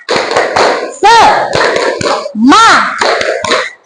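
Indonesian schoolchildren standing in class perform a rhythmic spirit clap, loud sharp claps in short patterned bursts alternating with their chanted group shouts.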